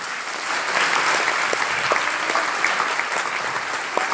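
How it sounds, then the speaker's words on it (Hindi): A large audience at a business seminar in India bursts into sustained, dense applause that rises quickly and stays loud and steady, with scattered sharper claps standing out. "सारे लोगों के लिए एक जबरदस्त ताली होना चाहिए।"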